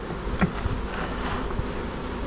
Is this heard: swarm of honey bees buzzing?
yes